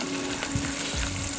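Sea trout fillets fry in a pan with an even, close sizzle and a few soft crackles and spits, steady and fairly quiet, with no talk.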